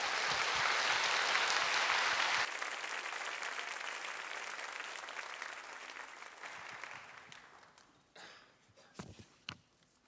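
Congregation at a church youth worship service applauds loudly to welcome the pastor to the pulpit, a dense sustained clapping that gradually thins and fades, ending in a few scattered claps and shuffling.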